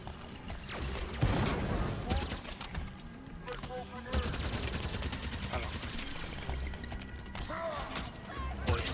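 Rapid gunfire in the video game Halo 5 during a co-op campaign battle, dense bursts of automatic shots and impacts running almost continuously, with voices talking over the combat.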